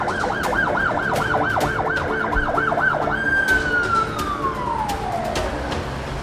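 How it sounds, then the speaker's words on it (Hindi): Loud ambulance siren wailing in a fast, regular up-and-down cycle, then shifting into a long steady tone that slowly falls in pitch as the emergency vehicle draws close and passes, no voices over it. "किसी ने एम्बुलेंस को कॉल की? हाँ हाँ, आने वाली है।"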